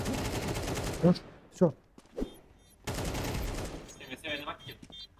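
Several sharp gunshot bursts from a game crack out between stretches of talking, loud and close, with a short rapid volley near the end.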